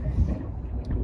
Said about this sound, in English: the wind is picking up dramatically